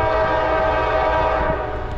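An intermodal freight train on the Lehigh Line sounds a long, loud, sustained horn chord while passing close by, with a rumbling roll beneath it.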